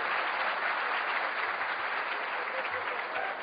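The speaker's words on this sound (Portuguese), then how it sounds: "Aplaudi." An audience at a lecture on happiness breaks into steady, dense applause, many hands clapping continuously at an even level throughout with no pause.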